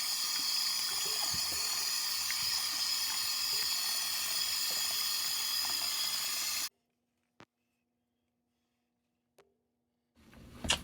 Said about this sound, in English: it may be hard for you to hear that with the faucet on